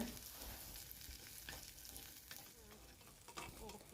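Shallots, garlic, ginger and onion sauté in a pan for a fish curry, a constant close frying sizzle with occasional stirring scrapes.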